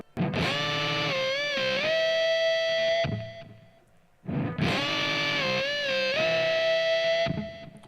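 Overdriven rock electric guitar played with a dirty articulation that catches the string below, two similar distorted phrases of sustained, bending notes separated by a short pause, close and loud with no talking.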